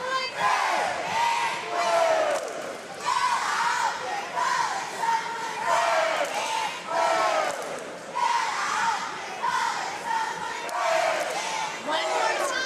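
Homewood basketball fans chant and yell their team colors in unison, a loud rhythmic crowd shouting in repeated surges from a packed gym.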